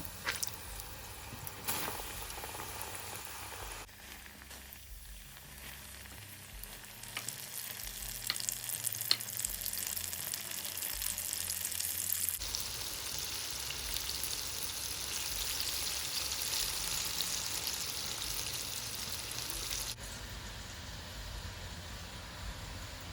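Popcorn chicken pieces frying in a hot pan with a continuous crackling sizzle, broken by scraping stirs throughout, with no voices.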